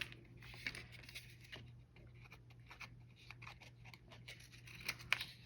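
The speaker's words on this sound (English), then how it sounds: "Got to snip these a little bit." Small scissors snip paper roof tabs on a 3D haunted house paper craft, giving a string of quick, close, crisp cuts in an irregular rhythm with no talking.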